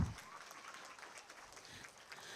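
Applause from a meditation audience in Proddatur, a steady broadband wash of many hands clapping that fills the whole short stretch at low level, with a faint thump at the very start.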